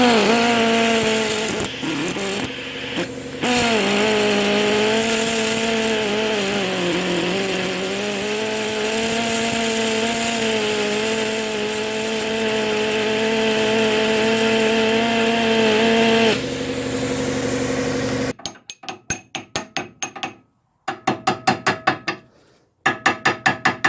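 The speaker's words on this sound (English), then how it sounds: "So I'm going to try the die grinder here, and we'll see if that works." A die grinder runs in a workshop with a steady, high-pitched whine that wavers slightly in speed for about sixteen seconds, followed by rapid rhythmic tapping and scraping bursts.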